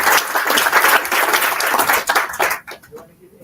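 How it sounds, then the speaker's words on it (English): An audience at a college launch event breaks into a dense round of applause that carries on steadily, then thins out and stops with a few final claps. "A round of applause for ETDP"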